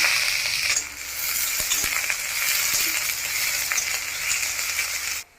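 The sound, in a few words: onions frying in mustard oil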